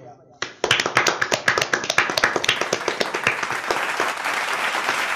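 An audience at a school Urdu drama performance breaks into applause, starting abruptly with loud, brisk individual claps that quickly merge into a dense, sustained wash of clapping from many hands nearby.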